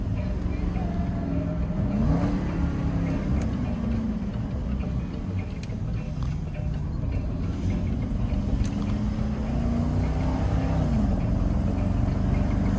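Steady engine drone from inside a 2014 Jaguar XK Convertible with a 5.0-litre engine, in manual mode, the pitch rising and falling as it revs through gears, under occasional talk.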